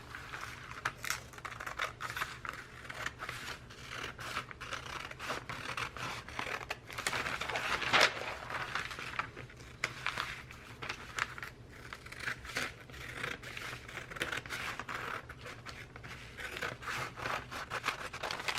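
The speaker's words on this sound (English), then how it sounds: "Now I'm going to cut that out." Scissors cutting paper for a composition journal cover, making a run of faint, close, irregular snips and crisp paper rustles with brief pauses between, no talk.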